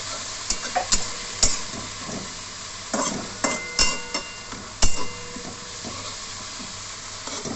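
Pea greens and green peas stir-fry in a wok with nigella seeds and green chillies, a steady sizzle broken by sharp metallic spatula scrapes and clinks against the pan, close and without talk.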